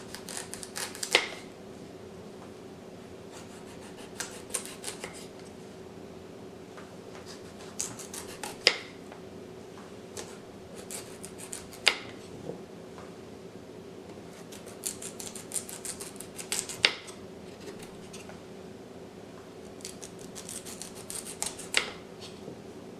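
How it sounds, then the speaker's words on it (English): Sharp knife peeling sections of raw yucca root, giving a series of crisp, isolated cutting and scraping strokes at irregular intervals over a low steady hum, close and fairly quiet. "Peel the yucca with a sharp knife, cutting into the flesh."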